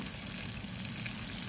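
Dried danggit fish frying in hot oil, a steady close sizzle with faint crackles and no voices over it.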